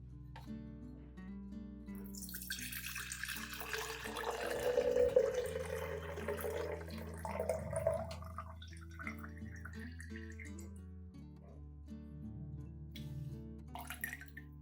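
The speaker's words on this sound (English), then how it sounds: "Strain out the banana peels and keep the clear liquid for use." Banana peel water being strained for an orchid plant food, with a steady stream of liquid pouring and dripping into a container, continuous and close, swelling midway, with no talk.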